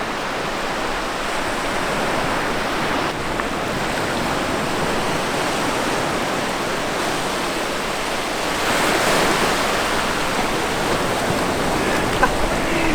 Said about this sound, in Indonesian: Kelihatannya dia tenang, kelihatan ombaknya kecil.